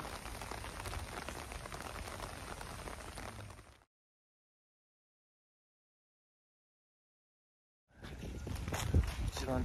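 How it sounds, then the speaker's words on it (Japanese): Heavy rain hisses steadily around someone walking outdoors at a historic park area in Fukuoka, a dense close wash of drops, cut off by a few seconds of silence before the downpour and faint footsteps resume. "いやいやいや、すごい雨なんだけど。"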